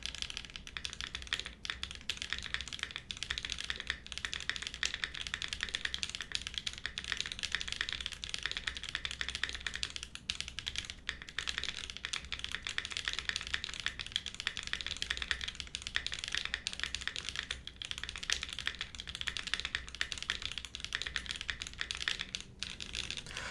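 Steady, continuous clacking of a QK75 mechanical keyboard being typed on rapidly, with dense uniform keystrokes throughout and no voices.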